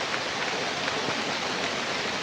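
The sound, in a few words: heavy rain in a video game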